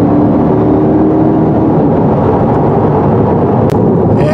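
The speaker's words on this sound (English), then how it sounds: "nothing beats the nice roar of a good small block Chevy V8 running hard" A small-block Chevrolet V8 in a 2021 Corvette Convertible roars loudly and continuously under hard running, with a deep, rumbling drone that stays close and steady throughout.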